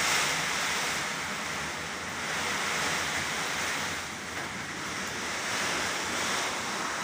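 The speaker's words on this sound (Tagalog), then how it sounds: "lumulusot na sa kisame ang tubig" Steady, loud rush of typhoon rain leaking through a ceiling, pouring and splashing indoors, a continuous broadband wash with no pauses and no voices.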